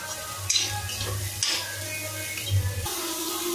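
A spoon scrapes and stirs spiced potato and cauliflower sabzi in a pan, a steady soft sizzle of frying underneath with a few louder scraping strokes.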